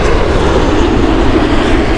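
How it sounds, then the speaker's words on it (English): A British Airways Boeing 787-8 passes at Heathrow Airport, its loud, steady engine roar filling the whole stretch with broadband rumble. "787-8 from British Airways"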